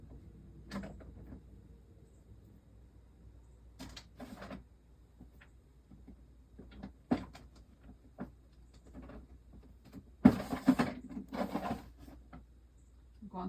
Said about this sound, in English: I'm going through all my washi tape drawers.